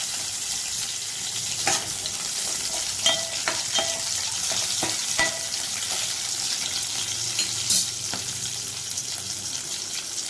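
Cinnamon, cloves and garlic frying in oil in a pan, giving a steady close sizzle with scattered sharp pops and crackles, and a few brief clinks of stirring.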